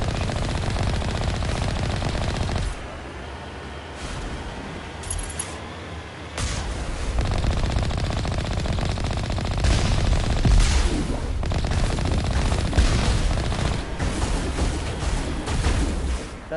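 Sustained bursts of heavy automatic gunfire and booms in the video game Mass Effect Legendary Edition, loud and continuous throughout, with hardly any talk.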